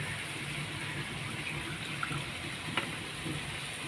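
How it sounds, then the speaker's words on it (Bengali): Tap water runs steadily into a bowl being rinsed in a kitchen while cooking chana dal, a continuous close splashing stream with a couple of small clinks, no voices. "বাটিটা ধুয়ে একটু জল দেবো।"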